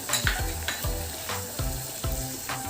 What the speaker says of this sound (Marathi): या भाज्या देखील आपण साधारण दोन ते तीन मिनिटे तेलामध्ये परतून घेणार आहोत